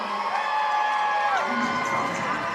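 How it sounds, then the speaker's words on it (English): A large crowd cheers and whoops continuously in a big echoing basketball gym at halftime, a dense wash of voices with no clear pauses. "give them the biggest round of applause"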